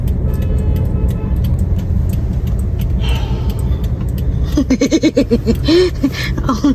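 Road traffic heard from inside a moving car in Chicago: a steady, low engine and road rumble throughout, with brief voices and laughter near the end.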